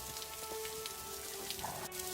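Rain falls steadily in a village, a soft continuous patter of drops on surfaces, faint and even with no voices.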